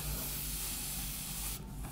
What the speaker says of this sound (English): just do a nice controlled bit of a spray